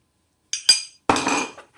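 A spoon stirs a homemade oatmeal, tea tree and spearmint scrub with olive oil in a bowl: two quick, close clinks, then a longer scraping clatter against the bowl.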